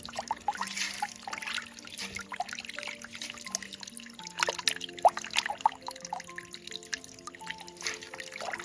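Spring water trickles and drips steadily into a freshly dug pit on a hillside campsite, a quiet, close patter of small drops.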